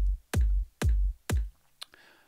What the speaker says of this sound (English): this is one sound, which is a kick drum and sounds like this on its own